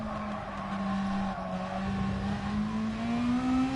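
Race car engines in Gran Turismo Sport, a steady droning engine note that slowly climbs in pitch under acceleration, with faint tire noise and no voices.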